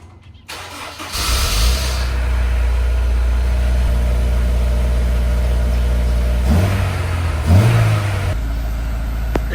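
Honda S2000 with a newly fitted exhaust starts up on a test drive, then settles into a steady, fairly loud idle drone, with two brief revs rising and falling near the end.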